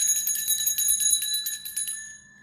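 A small bell used in sound therapy rings with bright, sustained metallic tones, struck several times in quick succession before fading out, alone and clear.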